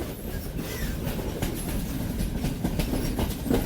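A train in Sri Lanka rumbles and clatters steadily along the rails, with rhythmic clicking of wheels over track joints and no voices.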